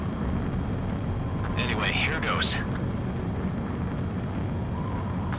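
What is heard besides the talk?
fighter plane engine while attempting to land in Ace Combat 7 video game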